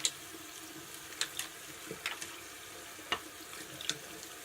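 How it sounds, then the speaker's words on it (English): Tap water runs into a sink while makeup brushes are rinsed clean of soap, a quiet steady wash broken by several brief splashes and clinks spread through the clip. "You have to rinse and make sure that all the soap is out of your brushes"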